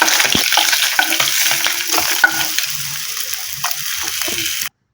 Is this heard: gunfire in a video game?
no